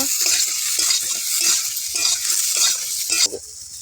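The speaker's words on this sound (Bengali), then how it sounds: "একটু নেড়ে চেড়ে নেব।" Okra frying in a pan with turmeric, stirred with a spatula: a steady bright sizzle under a series of rhythmic scraping stirs, close and continuous until the sizzle suddenly drops away near the end.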